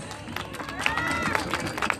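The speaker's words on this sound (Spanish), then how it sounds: "Un aplauso para ustedes." A crowd at a traditional Christmas posada in Santa Bárbara breaks into clapping and cheering, a dense patter of hands and shouts heard together with a voice.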